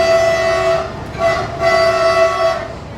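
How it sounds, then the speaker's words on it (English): A diesel-powered train runs close by with a steady engine rumble and sustained horn-like tones that swell and fade several times across the few seconds, with no talking. "apparently this is a diesel powered train."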